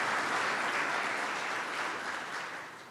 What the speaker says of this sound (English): Let's give Jillian a round of applause for her work with a student this summer.